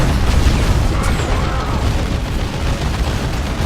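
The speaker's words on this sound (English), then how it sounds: "these Wraith Guards all have D cannons" Heavy D-cannon blasts from Wraith Guards in the real-time strategy game Dawn of War 2: Retribution make a dense, loud, rumbling boom that continues for several seconds without speech.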